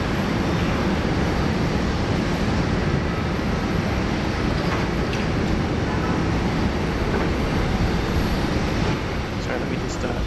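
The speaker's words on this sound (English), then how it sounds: "And for the first time today, British Airways in the 787-9 Dreamliner." British Airways Boeing 787-9 Dreamliner at Sydney Airport, its engines giving a steady, broad roar that holds at constant loudness throughout, with faint talk in the background.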